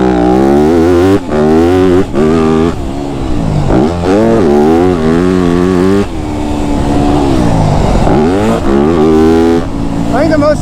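A Yamaha YZ250F dirt bike engine revs loudly and up close, its pitch climbing and dropping repeatedly while ridden in fourth gear through corners, with a rider speaking now and then.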